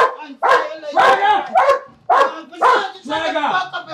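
A dog gives a quick run of loud, close barks and yips, mixed with excited human voices talking over them.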